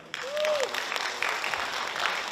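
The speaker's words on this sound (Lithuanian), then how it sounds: "jūsų plojimai" Audience applause for a contestant at a NABBA Lithuanian/Latvian Open 2020 classic bodybuilding competition, a steady wash of clapping from a crowd with a brief tonal whistle or cheer near the start.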